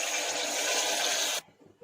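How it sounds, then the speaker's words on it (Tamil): Water pours steadily into a cooking pot for boiling basmati rice, a loud close gushing rush that cuts off abruptly, leaving faint kitchen sounds. "அதனால 4 கிளாஸ் வாட்டர் ஊற்றுறோம்."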